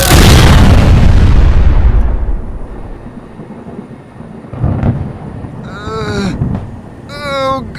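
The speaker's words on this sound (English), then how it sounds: "We get struck by lightning, you idiot!" A lightning strike followed by a huge crack of thunder, loud and near, rumbling down over a few seconds into a low roll, then a later boom as voices cry out in pain.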